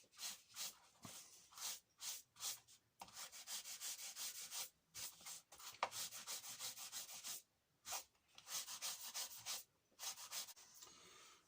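A flat part of a leather book cover is rubbed gently by hand, giving repeated close, soft, dry swishing strokes in a steady back-and-forth rhythm with short pauses between passes.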